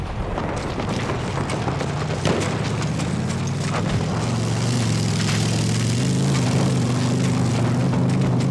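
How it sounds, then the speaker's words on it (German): Aircraft engine drone in the World War I shooter Battlefield 1, a loud, steady propeller-like roar that holds for the whole stretch under a constant wash of battlefield noise, with no speech. "Flugzeug gesichtet!"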